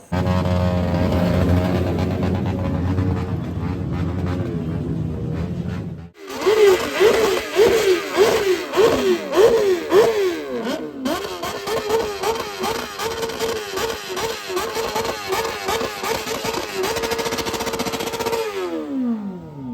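A BMW S1000R superbike arrives amid a crowd at an Independence Day rally, its engine rasping in sharp repeated revs and rising blips after a low rumble and a brief cut, loud and close throughout.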